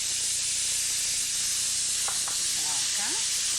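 Capers hitting a hot pan in a cooking kitchen, giving a loud, steady sizzling hiss throughout, with a few faint clinks and scraping sounds near the end.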